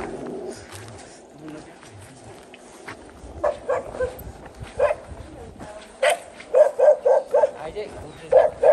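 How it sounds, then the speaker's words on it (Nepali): A dog at a rural hillside farmhouse in Nepal barks repeatedly in quick, loud, fairly close bursts that grow more insistent toward the end, with people talking in the background. "कुकुरले टोक्छ"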